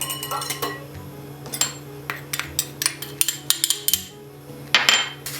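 Eggs are whisked in a bowl, giving quick, irregular metallic clinks and taps against the sides, close and clear, with a low background hum.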